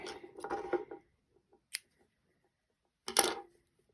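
Scissors snip crochet yarn for an afghan blanket: a few faint, close, sharp cuts separated by quiet, with no talking.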